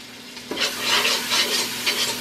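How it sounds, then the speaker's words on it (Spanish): A spoon stirs flour into a sizzling sauce in a pan, the scraping strokes coming in a steady rhythm over a bed of frying hiss, close and fairly loud. "La voy a revolver bien."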